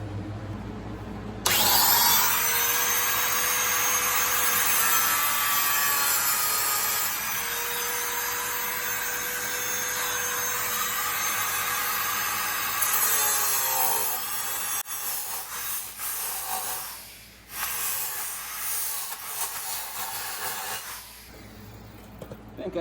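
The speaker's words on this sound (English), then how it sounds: "I'm going to grind it like I'm going to grind this side now." A grinder works on a front suspension part during a Ridetech C3 front suspension installation, a loud steady whine with shifting tone running for many seconds, then breaking into rougher intermittent bursts and pauses near the end.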